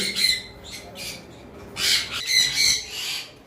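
English budgerigars squawk in bursts at a bird farm, several shrill overlapping calls close by in quick succession, loud against a quiet background, with no talking.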